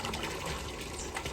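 Water swirls and drains from a basin during an outdoor equator demonstration, a dense continuous gurgling trickle with splashy texture, close and steady, no talk.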